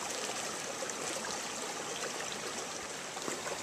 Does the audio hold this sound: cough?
no